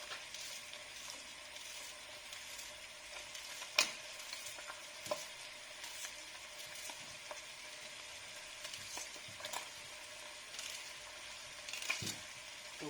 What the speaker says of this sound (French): On va les faire revenir un petit peu. Et on va ajouter les oignons.